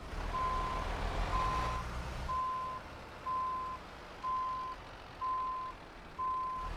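A truck towing a trailer reverses in southern Spain, its backup alarm giving seven evenly spaced beeps about once a second over a low engine rumble.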